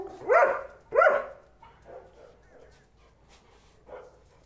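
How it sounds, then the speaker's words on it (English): A dog barks during a training session, giving two loud, close barks followed by softer, scattered yips and whimpers that trail off. "And if the dog's still barking at it, we claim it again."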